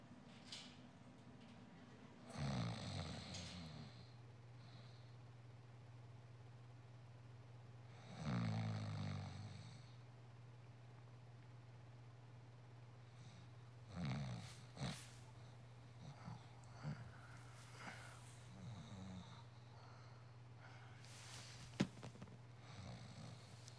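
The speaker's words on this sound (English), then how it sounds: "Snoring." A person snoring in a movie scene, with a few loud snore-like bursts spaced several seconds apart over a steady low hum, and fainter snorts between them.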